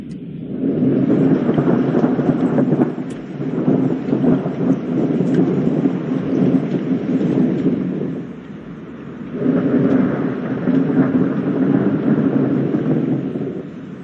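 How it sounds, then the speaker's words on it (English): Thunder in an indie groundskeeping video game with rain: two long, loud, deep rumbles roll one after the other over a steady wash of rainfall, with a short dip in between. "I created a blueprint that synced the point lights flashing right before the sound of thunder played."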